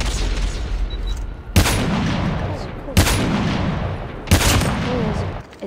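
Gunfire in a video game shooter: three loud, sharp booming shots spaced about 1.4 seconds apart over a continuous rumbling background.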